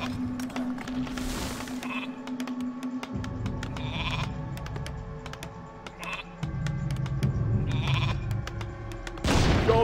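Sheep bleat several times in the video game Warcraft III, over steady synthetic game music and clicking sounds, the bleats close and repeated.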